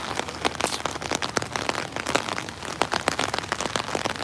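Steady rain drums on a surface, a dense, even patter of close drops with frequent sharper taps and no voices.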